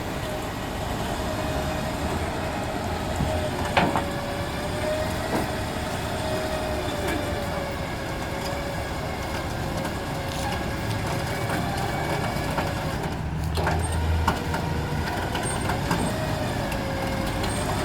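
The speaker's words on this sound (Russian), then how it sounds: "Вот аккуратненько машину грузят." A car being loaded onto a truck after a road accident in Kazan, with a steady mechanical drone, a sustained tonal whine and scattered clanks and knocks throughout.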